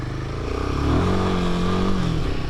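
A Royal Enfield Himalayan 450 motorcycle runs close by on a gravel track, its engine droning and rising steadily in pitch with a rough, clattering undertone.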